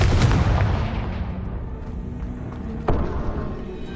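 A loud, close blast from the Confringo spell in Hogwarts Legacy opens with a booming burst and decays slowly. A second, smaller thump follows near the end, with no voices over it.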